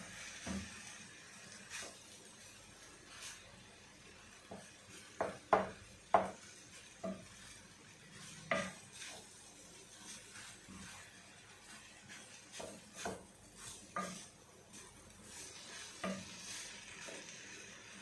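An egg frying and being stirred in a hot pan for Arabic-style fried rice, with a soft continuous sizzle broken by scattered scraping and clicking strokes of the utensil, fairly quiet and close, with no talking.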